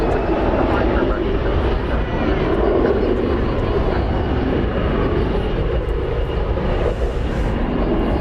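An American Airlines Airbus A321 jet rolls past at night at the airport, a loud broad steady engine roar that holds throughout, with a voice speaking over it.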